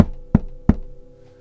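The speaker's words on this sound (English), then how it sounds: "Knock on wood here." Two crisp knuckle knocks, about a third of a second apart and fairly close, rap on a hard surface, apparently the person's own head in a knock-on-wood gesture, then fade into quiet room tone.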